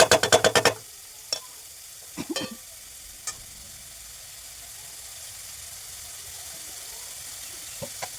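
Onion and garlic fry in a pan. A quick run of rapid scraping stirs opens, followed by a few scattered clinks, then a quiet, steady sizzle with an occasional faint tap.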